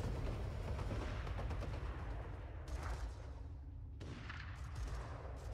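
Rapid gunfire and booming shots in the Borderlands video game, a dense continuous barrage of firing with a couple of brief gaps, heard alone without talk.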